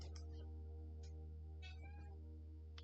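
A house cat gives a few short, faint meows over a steady low electrical hum, each call spaced apart across a quiet indoor room.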